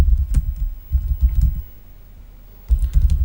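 Computer keyboard typing during a Python programming lesson, heard as two bursts of close, soft key clatter separated by a short quiet pause.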